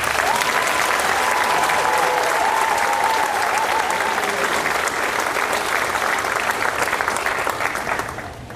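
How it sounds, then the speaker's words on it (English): Audience at a high school senior awards night gives a loud, sustained round of applause, dense clapping from a large crowd that holds steady then begins to taper off at the end. "if we can give them all one last round of applause"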